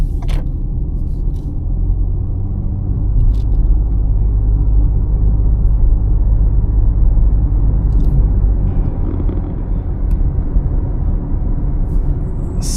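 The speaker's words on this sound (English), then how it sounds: "let's take the long way around so we can experience this car a bit more driving in" A 2025 Suzuki Swift GLX with a 1.2-litre CVT drives through town, its steady low engine and road rumble loud and continuous from the cabin, with a few brief clicks and no talking.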